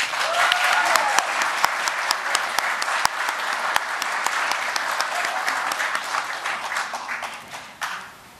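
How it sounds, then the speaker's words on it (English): Crowd at a police officer swearing-in ceremony applauding the new officers, a loud, continuous round of close clapping with sharp individual claps standing out, tapering off at the end. "Please join me in thanking them with a round of applause."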